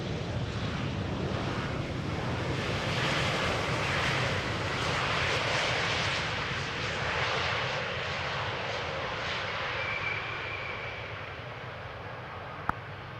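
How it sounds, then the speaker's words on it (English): Embraer 190 airliner landing at Amsterdam Schiphol, a sustained loud jet roar and rushing air rising and falling gently as it passes near, with a brief click near the end. "This is an Embraer 190 arriving from Manchester"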